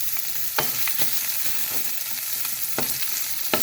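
Onion frying in a frying pan gives a continuous loud sizzle, punctuated by several sharp scraping or stirring clicks at irregular intervals.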